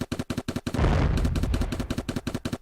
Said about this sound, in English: enemy objects are exploding